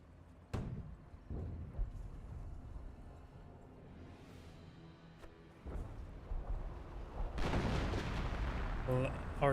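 Artillery barrage in the World War II strategy game Company of Heroes: scattered heavy booms and distant rumbling impacts that build into a loud cluster near the end, with commentary over them.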